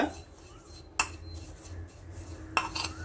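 Basil and other ingredients being mixed into a marinade for tandoori pomfret fish, with two sharp utensil clinks against a dish over faint background hiss and quiet scraping.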